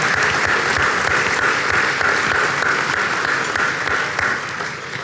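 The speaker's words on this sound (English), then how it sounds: "If you wouldn't mind giving them a round of applause as well." An audience at a conference luncheon claps for the lunch staff, dense sustained applause throughout, loud and close, tapering slightly at the end.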